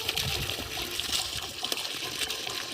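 Water gushes steadily from a serviced BLDC borewell pump with a replaced impeller, drawing from about 160 feet down. The flow makes a continuous rushing, splashing noise with no pauses.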